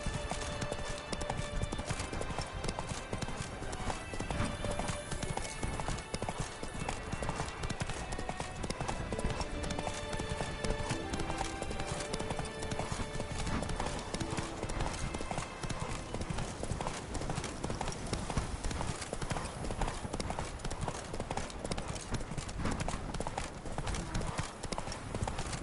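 Roach the horse gallops in The Witcher 3 with continuous, rapid clip-clop hoofbeats alongside dense game sound, and a voice speaks now and then.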